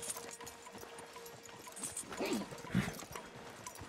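Horses walking in the Western video game Red Dead Redemption 2, faint hoof clip-clops under a steady outdoor ambience, with a soft snort or whinny-like call near the middle.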